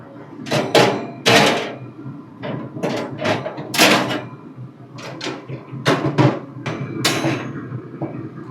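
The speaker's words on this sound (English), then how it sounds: "We got these porcelain coated cooking grates, they go in next" Porcelain-coated cooking grates set into a Z Grills 10502B pellet grill, giving a series of sharp metallic clanks and knocks at an irregular rhythm, close and fairly loud, with no talking.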